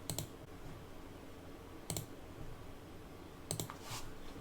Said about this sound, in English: I then click around the four corners of the object